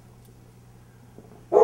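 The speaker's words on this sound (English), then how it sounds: "Keep the barking dog on" A dog gives a single loud, close bark right at the end, after a quiet stretch with only a low hum.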